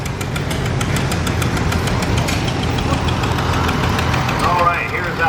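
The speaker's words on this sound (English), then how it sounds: "here's one of the first of our Shepherd tractors coming. This is the SD2, 2-cylinder." A Shepherd SD2 two-cylinder tractor engine chugs in a loping, uneven beat at a tractor parade of power, rumbling close by while a voice talks over it.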